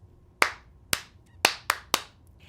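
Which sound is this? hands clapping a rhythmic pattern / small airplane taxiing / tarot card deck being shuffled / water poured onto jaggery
hands clapping a rhythmic pattern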